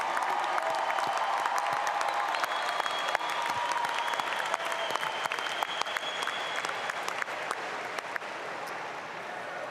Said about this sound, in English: Can I have one more round of applause for our baccalaureate degree recipients?